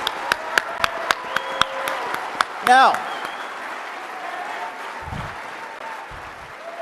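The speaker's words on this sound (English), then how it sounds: "Let's give them a round of applause." An audience at CPAC applauds in a sustained, steady wash of clapping that fills the hall, with a voice talking over it near the start and sharp percussive pops early on.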